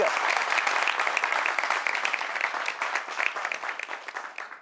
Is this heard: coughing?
no